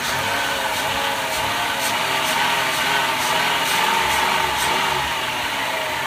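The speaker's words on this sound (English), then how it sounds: "Now, for just to be sure, let's rev it up a little bit." Engine of a fourth-generation Chrysler minivan, freshly fitted with new plugs and wires, revved steadily with the throttle and held at a rising, fairly even drone with no voices over it.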